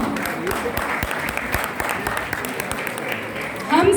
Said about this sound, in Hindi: कृपया तालियों की गड़गड़ाहट से इनका उत्साह बढ़ाते रहिए।